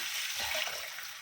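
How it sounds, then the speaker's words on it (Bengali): Water poured into a pot of fried moong dal, a brief, soft, steady rushing splash with no voices. "জলটা দিয়ে দিই"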